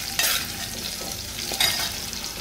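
Cumin seeds crackle and hiss in hot oil in a pan for potato usal, a steady close sizzle with two brief louder bursts from stirring, no voices.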